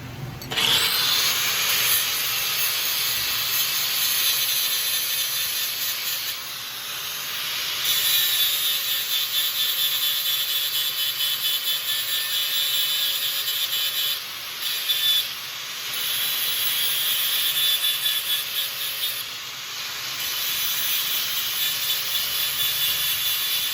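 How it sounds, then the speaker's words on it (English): A power grinder grinds down the steel jaw of a #5 trap in a trap shed, a loud, steady, harsh hiss and whine that runs almost continuously with a few brief dips, close up. "I'm just going to grind it down to where it's the same size from the tip to where it meets the jaw bed now"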